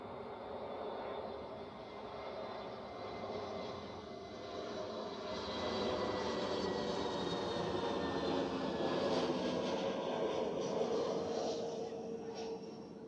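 A British Airways airliner at Zurich Airport roars steadily, its jet engines holding a loud, broad rumble with a slowly rising whine that swells a little toward the middle and stays continuous throughout.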